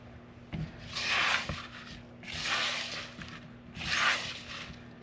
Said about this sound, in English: It says to toss gently, so I am just, kind of flipping it.